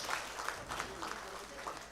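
An audience at a silver jubilee celebration gives a brief, steady round of clapping at moderate volume.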